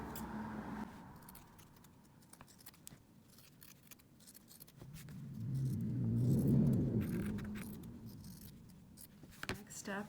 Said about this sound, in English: I'm going to trim the seam allowance down in the curves.